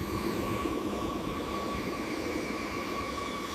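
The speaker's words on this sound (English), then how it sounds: "Another pair of bombers taxis toward the runway, following the first wave." US B-52 bombers taxi toward the runway, giving a steady, distant jet-engine roar with a sustained whine layered over a low rumble, no pauses.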